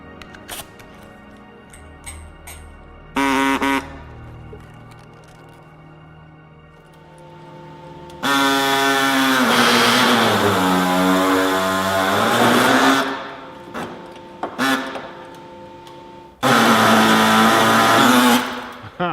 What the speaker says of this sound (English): it's now time for a bit of cutting, I think.